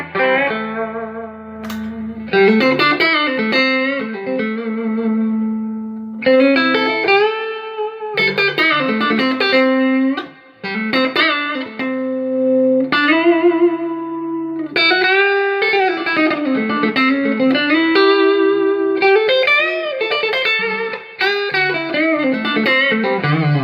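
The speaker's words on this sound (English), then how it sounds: "It's got a really nice reverb." Electric guitar through a Quilter Superblock UK amp with lush reverb, chords and notes ringing out with long trailing tails, steady and fairly loud throughout.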